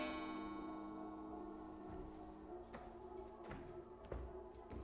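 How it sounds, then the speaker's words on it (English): A clock in a video game ticks steadily, a dry rhythmic ticking over a low hum and soft game ambience, with no speech. "There's no hands on that clock."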